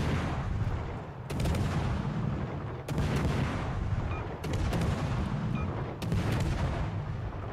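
Naval guns firing shells in World of Warships Legends, heavy booming salvos about every one and a half seconds over a continuous loud rumbling game background, no talk.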